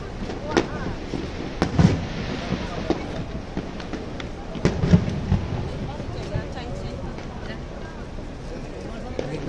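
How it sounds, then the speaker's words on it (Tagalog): Fireworks going off outdoors on New Year's, scattered distant pops and thuds at irregular intervals under a continuous crowd murmur and nearby talking. "Bigla namang nag-fireworks."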